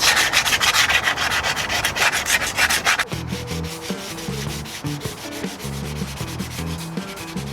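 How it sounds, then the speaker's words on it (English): Sandpaper rubs over primed wooden moulding in quick, rhythmic scratchy strokes for a few seconds, then the sanding stops and tonal music takes over. "I use sandpaper and a blade, otherwise these won't seat properly."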